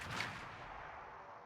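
Naval turret guns of the battleship Izumo fire in a video game, a loud booming blast that rolls out and fades into a long rumbling tail.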